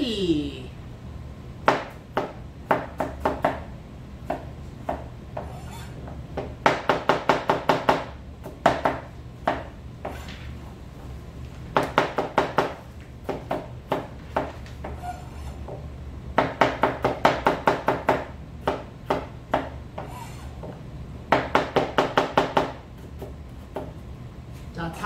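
A kitchen knife chops cabbage and other vegetables on a cutting board while a salad is prepared, with quick rhythmic bursts of crisp taps separated by short pauses and a voice talking throughout.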